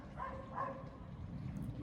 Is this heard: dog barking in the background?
yes